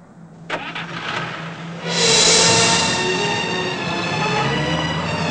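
A car engine cranks with a sharp click, then catches and settles into a loud, steady running roar.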